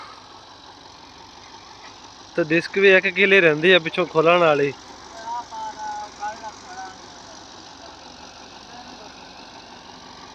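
A Russian tractor engine idles with a steady low rumble while someone talks briefly over it, then the engine continues on its own.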